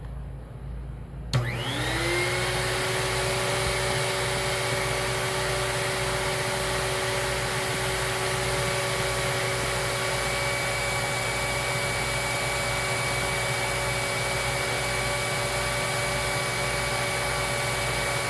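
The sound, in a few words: Lindhaus Healthcare Pro vacuum cleaner running for airflow test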